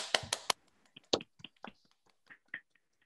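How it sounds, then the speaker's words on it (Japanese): A small remote audience claps sparsely while rehearsing applause for a comedy show: scattered, uneven taps and hand claps, close and light, with a few louder bursts and quiet gaps between them. "拍手の練習です。 それでは拍手。"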